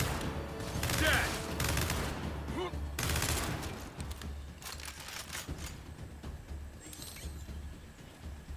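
Bursts of automatic gunfire ring out in a Gears 5 campaign fight, loudest in the first few seconds, then thinning to scattered shots and mechanical clatter, with voices talking in between.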